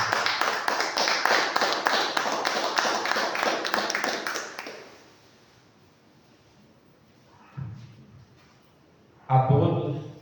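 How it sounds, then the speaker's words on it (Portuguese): A church congregation claps loudly in dense, rapid applause for about five seconds, then it drops to near silence, broken by a brief sound and then a short burst of voices. "Aplaudimos o Senhor bem forte."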